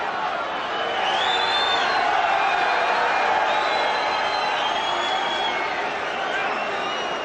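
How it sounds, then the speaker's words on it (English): A boxing-match crowd roaring for the arrival of Donald Trump and Marla Maples, a steady, loud wash of cheering voices with a few whistles rising above it throughout. "that little roar of the crowd was the arrival of Donald Trump with Marla Maples"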